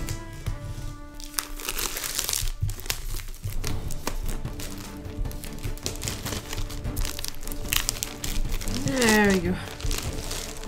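Paper insert from the back of a God of War Ragnarok deluxe art book crinkling and rustling while being unfolded, close and moderately loud, with a brief voice speaking over it.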